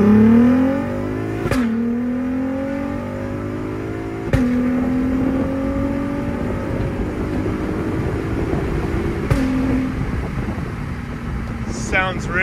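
Exhaust note of a VW MK5 R32 with a Magnaflow catback and catless headers, revving in repeated rising pulls that drop back between sharp blips, loud and close over a steady low drone.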